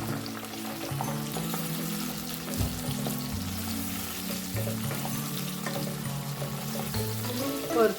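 Green chilli and red capsicum sauté in a hot pan with onion, a steady close sizzle and frying hiss that runs unbroken throughout, with no talking.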